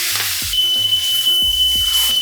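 Pork chop sizzling in a pan with a generous amount of butter, thyme and rosemary, giving a steady bright hiss beneath background music with beeping tones.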